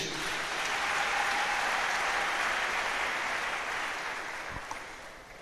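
A church congregation at a French-language sermon breaks into sustained applause, a dense even wash of clapping that holds steady and slowly fades at the end, with no speech.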